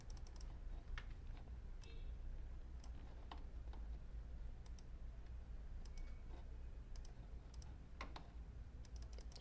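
Quiet typing on a computer keyboard while entering IP addresses for a Cisco router and TACACS server setup, with soft, irregular key clicks in short bursts and no talking.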